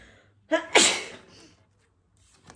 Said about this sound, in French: désolé je vais éternuer bientôt